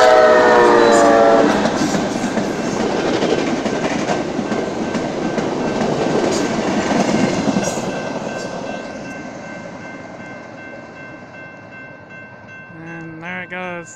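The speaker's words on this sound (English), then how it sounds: "It is a northbound talgo train. Amtrak Castlerock train." An Amtrak Talgo passenger train rolls northbound through foggy Castle Rock, Washington, loud and close at first with rumbling wheels, then fading into the distance, with a short horn blast near the end.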